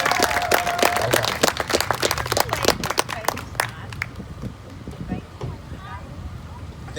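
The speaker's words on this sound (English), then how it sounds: "Let's give him a round of applause." Applause for a speaker at a multicultural memorial march in Carbondale, Illinois: a crowd clapping outdoors in a scattered patter, a moderate burst that thins out and fades over several seconds amid wind.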